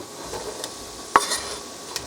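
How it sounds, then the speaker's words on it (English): Portobello mushrooms sautéing in a pan, a soft continuous sizzle with a single sharp utensil tap near the middle and a faint clink at the end. "Those are just going to saute for a second."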